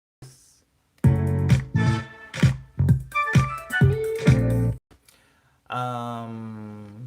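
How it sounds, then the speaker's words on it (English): A short keyboard music passage with a flute voice plays a series of detached, tuneful notes, then a brief pause and one longer held tone, close and clear with no talking. "just this little section with the flute sounds like this."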